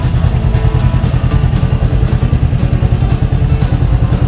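A motorcycle engine runs loud and close, with a steady rapid low-pitched pulsing that holds the same beat throughout, near a waterfall in Urubici, Santa Catarina.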